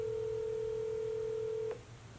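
A steady phone dial tone holds for nearly two seconds and then cuts off with a click, leaving a quieter line hum beneath it.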